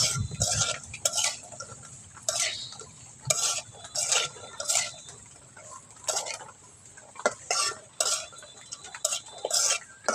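Dried fish curry with jackfruit seeds, potatoes and vegetables being stirred in a pot, repeated scraping and clinking strokes of a spoon against metal coming in uneven bursts, close and clear.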